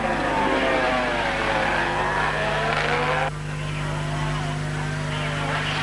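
A 120 horsepower racing motorcycle engine wails at high revs, loud and sustained, then drops in tone partway through as it passes or shifts, with a voice speaking over it.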